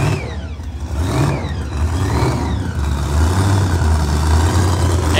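A Pro Mod drag racing car accelerates down the track during testing at Bradenton Motorsports Park: a loud, roaring engine with rising and falling pitch sweeps, heard close and continuous.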